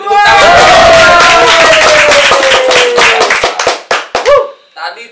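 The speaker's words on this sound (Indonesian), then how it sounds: "Beri tepuk tangan." Theatre audience clapping after a stage performance at an arts festival, loud, close, dense handclaps that thin into scattered claps and stop. A voice speaks over the start of the clapping.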